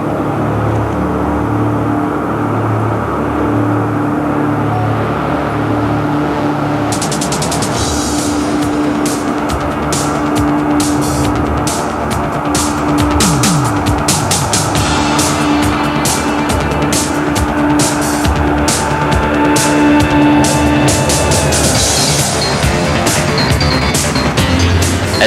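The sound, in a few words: Northrop B-2 bomber engines running up and takeoff roll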